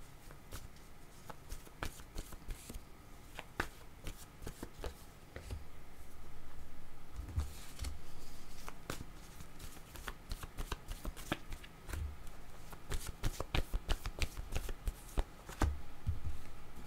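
A deck of word cards being shuffled and handled at close range, with repeated crisp riffling flicks and soft papery rustles coming in irregular bursts, steady and fairly quiet, with no voices.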